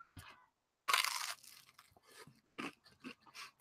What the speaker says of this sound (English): It's not the crunchy sounds that are disturbing, Mike.